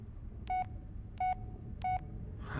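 A phone text message notification chimes three times, evenly spaced short electronic tones over a quiet background, faint and alone.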